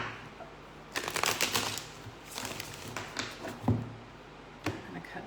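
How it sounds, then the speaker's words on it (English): A deck of playing cards shuffled during a tarot-style reading, with repeated riffling and soft tapping in bursts over several seconds, close and moderately loud, with no voice. "I'm gonna shuffle one more time."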